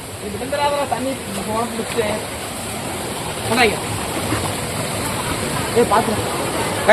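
Rushing water from a waterfall makes a steady broad wash, with people talking excitedly over it.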